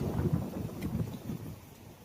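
Strong northeast monsoon wind at sea, a dense, continuous low roar with rumbling gusts buffeting close to the microphone, loud and unbroken throughout with no voices.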